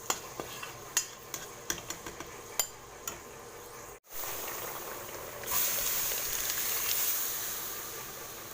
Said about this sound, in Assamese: ইয়াতে ফুটাই ল'লোঁ কেইটামান মেথি গুটি